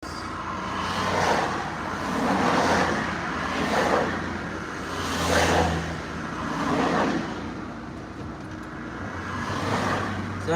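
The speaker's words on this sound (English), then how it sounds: "We're in a bit of a traffic jam at the moment." Cars idling and creeping along in a slow traffic jam, a steady low road rumble that swells and fades in gentle waves, with no voices over it.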